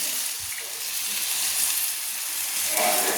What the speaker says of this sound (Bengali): আমি লাউটা সেদ্ধ করার জন্য দিয়ে দিচ্ছি আমি 1 বাটি জল।